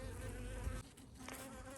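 Honey bees buzz at a hive in a bee yard, a dense, continuous drone of many insects, faint and steady, with no talking.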